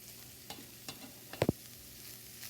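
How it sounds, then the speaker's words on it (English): Ground beef browns in a pan with a low steady sizzle, broken by a few short scraping stir sounds close by. "The meat is continuing to brown."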